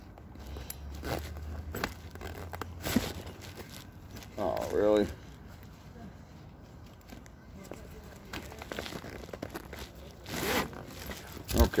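A zipper is tugged open on a pouch of a Stealth Angel go bag, giving a short, ragged rasp under ongoing talk and handling rustle.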